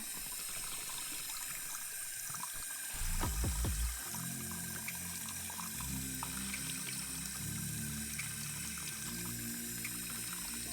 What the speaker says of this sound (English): run it under cold water until the water comes out as clear as it can be, like I'm doing in this video